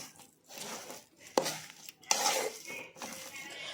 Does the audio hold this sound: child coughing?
no